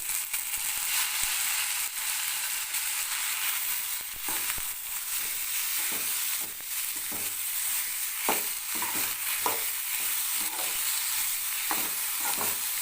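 Sliced onions and mint sautéing in a pan for a chutney, a continuous bright sizzle broken by repeated clinks and scrapes of stirring, close and steady, with no talk.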